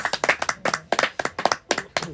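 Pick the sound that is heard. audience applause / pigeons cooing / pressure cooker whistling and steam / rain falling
audience applause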